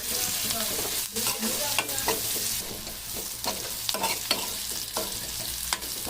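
Eggplant frying in a pan with turmeric being stirred in, a steady close sizzle broken by repeated scraping stirs throughout, with no talking.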